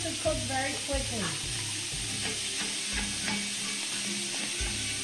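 Shrimp frying in butter with a steady crackling sizzle, punctuated by repeated low knocks and stirring sounds, while a voice talks faintly over the start.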